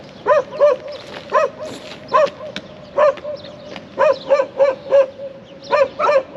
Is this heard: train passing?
no